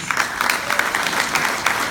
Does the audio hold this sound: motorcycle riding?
no